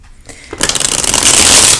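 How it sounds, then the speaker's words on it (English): Tarot cards shuffled by hand, a soft start that builds into a dense, continuous riffling flutter of cards, close and fairly loud, with no talking. "So I am going to get into the shuffling."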